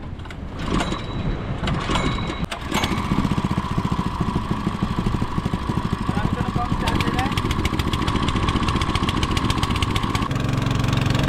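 A small water pump engine chugs steadily nearby with a fast, rhythmic putter, pumping water out of a pit, while someone talks over it.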